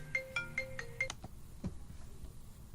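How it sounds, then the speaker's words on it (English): A mobile phone ringtone interrupts a lecture, several evenly spaced electronic tones repeating in a short melodic pattern for about a second, then breaking off as the room falls quiet. "There goes my phone."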